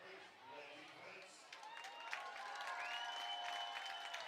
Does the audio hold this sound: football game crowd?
yes